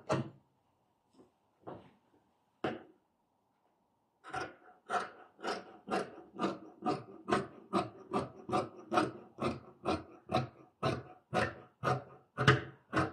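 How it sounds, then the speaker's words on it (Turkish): Scissors cut through fabric for a summer dress ruffle, a few isolated snips followed by a rapid, steady run of close, crisp cutting strokes with no talking. "volanımı kesiyorum"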